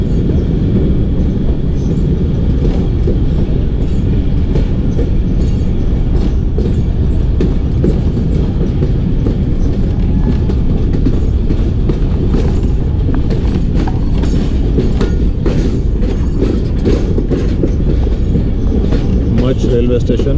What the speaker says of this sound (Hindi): अभी नीचे उतर रही है ट्रेन।